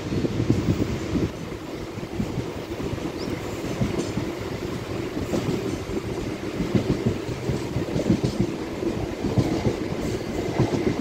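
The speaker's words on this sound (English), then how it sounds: "दयानंद नगर से भी डिपार्ट हो चुका है ट्रेन" An MMTS local commuter train in Hyderabad rumbles steadily along the rails, its wheels clattering in a continuous rhythm with low rolling noise throughout.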